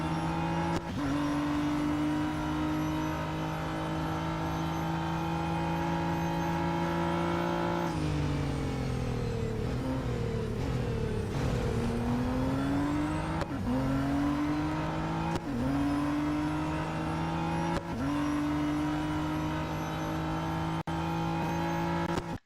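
Radical RXC race car engines in the game Real Racing 3, a loud continuous high-revving drone with repeated gear-shift drops and climbs in pitch, tires briefly squealing through corners.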